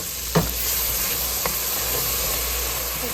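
Chopped frozen onion sizzles steadily in a pot for soup with potato and kielbasa, a constant close hiss of frying with a couple of brief stirring clicks near the start.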